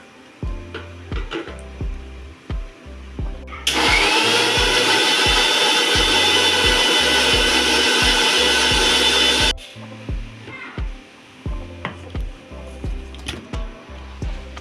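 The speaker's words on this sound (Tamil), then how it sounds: "இப்போ இதை மூடி போட்டு மிக்சியில் க்ரீமியாக அரைச்சி எடுத்துக்கலாம்." Mixer grinder blending muskmelon and cream into a creamy mix, a loud continuous whirring roar lasting about six seconds, with clattering kitchen knocks before and after.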